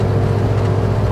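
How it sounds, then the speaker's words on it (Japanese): An air-cooled Volkswagen Beetle engine fitted with an aftermarket muffler idles at low revs, giving a steady, deep, throbbing drone with a lumpy rhythm, close and continuous with no talk. "低回転型のエンジンのね、はい、どこどこどこっていう、まあ本当にハーレーっぽい音っていうかね"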